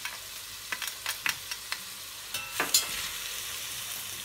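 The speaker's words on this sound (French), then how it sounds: "Et on fait revenir le tout." Onions and garlic sautéing in a pan for pizza sauce, a steady low sizzle broken by a series of scraping, clicking stirs from a utensil, close and moderately loud, with no voices.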